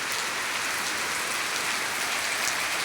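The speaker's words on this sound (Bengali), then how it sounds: "অনেক অনেক বৃষ্টি হচ্ছে, রাস্তাঘাট ডুবে গেছে" Heavy monsoon-style downpour flooding the streets, a dense, steady roar of rain hammering surfaces close by, with no let-up and no voices.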